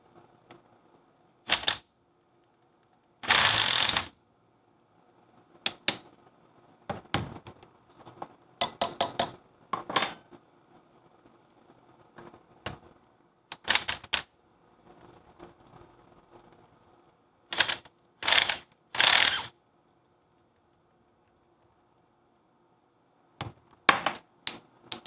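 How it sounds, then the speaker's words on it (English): Sharp, separate knocks of a nylon mallet striking a rusted steering arm on a Land Rover Series 2 swivel housing, coming in irregular bursts of single and rapid double taps with quiet gaps between them. "Giving the steering arm a big tap with the nylon mallet like this really helps to break up the 60 years worth of rust"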